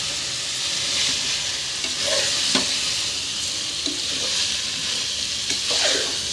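Biryani rice is mixed into frying masala in a home kitchen, with a constant close sizzle and a few distinct scraping stirs of the spoon against the pan, no talk.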